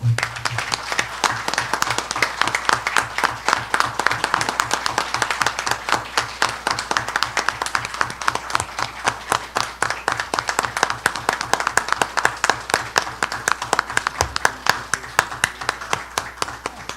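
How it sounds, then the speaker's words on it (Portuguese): Warm applause at a tribute session for the Brazilian writer Bartolomeu Campos de Queirós: an audience claps steadily and rhythmically, close and sustained for the full length. "eu queria finalizar essa sessão com palmas calorosas para Bartolomeu Campos Queiroz"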